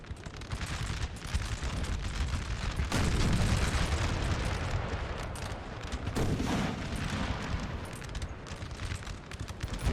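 A Napoleon Total War battle with French and Prussian armies: dense, continuous artillery booms and volleys of musket fire roll together loudly throughout, with no voices.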